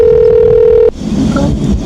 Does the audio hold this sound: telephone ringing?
yes